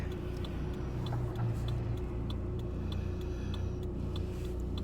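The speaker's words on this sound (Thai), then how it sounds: "ตอนนี้ขับรถอยู่นะคะ" A car driven on the road in England, heard from inside the cabin as a steady low road and engine rumble with faint regular ticking over it, no one talking.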